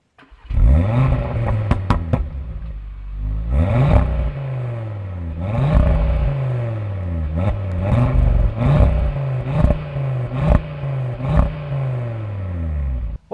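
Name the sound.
Audi RS3 2024 facelift accelerating and revving on track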